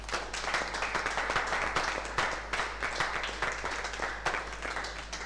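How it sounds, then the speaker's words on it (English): An audience at a festival breakout session applauds steadily for several seconds, a dense wash of clapping with no speech over it. "Can you just clap for them first, please?"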